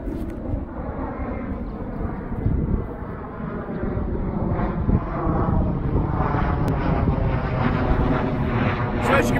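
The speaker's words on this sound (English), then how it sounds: "We've got planes flying overhead." A propeller airplane drones steadily overhead near an Air Force base, a broad continuous rumble at moderate level that holds for the whole stretch, with wind noise mixed in on an open disc golf course.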